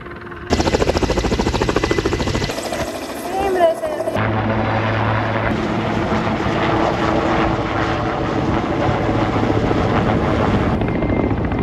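Helicopter flying over a forest fire in Sancheong County, South Korea, its steady rotor and engine drone continuous and fairly loud throughout, with voices talking over it.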